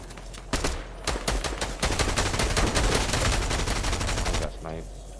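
Rapid bursts of gunfire in Fortnite, dense repeated shots from a sniper rifle and other weapons crackling loudly across most of the stretch, with voices mixed in underneath.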